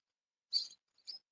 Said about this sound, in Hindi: क्या साउंड है ना चिड़ियों का